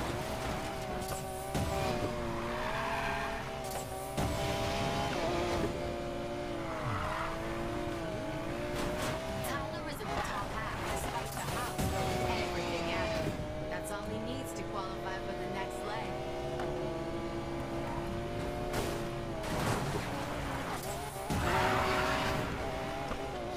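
Race cars in Need for Speed Payback roar and rev with shifting engine tones, with bursts of tire squeal and impacts, and someone talks loudly over the game audio throughout.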